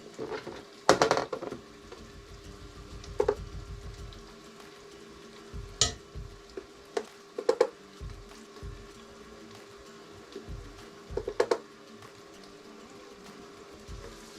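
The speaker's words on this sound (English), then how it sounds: "Go ahead and stir continuously as to not burn the flour." Flour being stirred into melted butter in a soup pot to make a roux, with soft scraping and gentle sizzling under a low hum, broken by sharp clinks and knocks from the utensil.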